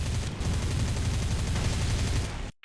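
Aircraft machine guns firing in the War Thunder combat flight game, a dense, continuous rattling burst that runs loud and steady for over two seconds before cutting off abruptly.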